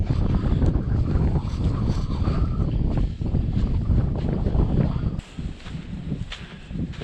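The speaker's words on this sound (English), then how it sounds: "wind's coming from this direction now" Strong wind at a campsite inside a volcano in extreme weather, a loud steady roar buffeting the microphone, briefly dropping and shifting near the end, with no talk.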